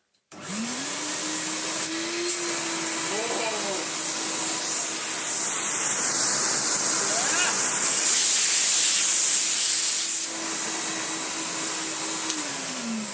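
A Numatic CTD570 twin-motor vacuum cleaner runs with a 38mm hose fitted, a steady loud whine and rushing airflow that starts abruptly and holds for the whole stretch, with faint handling knocks partway through.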